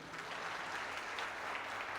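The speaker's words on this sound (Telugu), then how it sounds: "చప్పట్లు కొట్టండి." A church congregation claps during a worship service, a steady, moderately distant patter of many hands with no voices over it.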